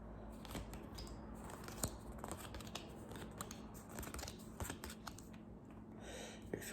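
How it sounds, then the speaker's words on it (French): Playing cards are laid out one by one on a table for a 21-card magic trick, giving faint, close, irregular papery taps and slides. "je vais venir placer les cartes comme cela"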